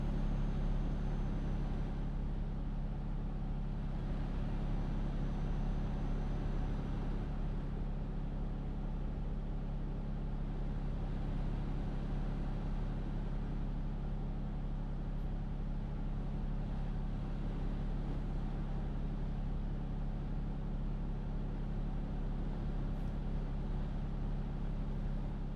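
Vehicle engine in the video game War Thunder, a steady low droning rumble that holds without change for the whole stretch, fairly quiet and alone with no talking.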